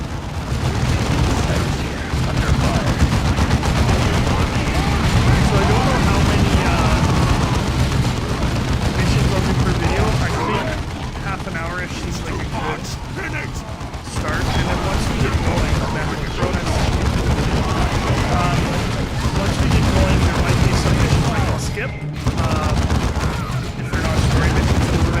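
Heavy gunfire and explosions in Warhammer 40k Dawn of War II, a loud, dense barrage of shots and booms that runs almost without a break, with brief lulls, and voices mixed into the din.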